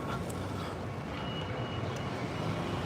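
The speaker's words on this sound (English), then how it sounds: "It's a bus station. It's gonna be pretty loud." Reversing beeps from a vehicle at a busy bus station, faint repeated tones sitting under a loud, continuous wash of traffic and engine rumble with no voices.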